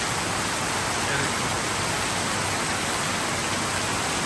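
Heavy rain pours down steadily as a dense, even hiss of broadband noise that stays constant and loud throughout, with no voices.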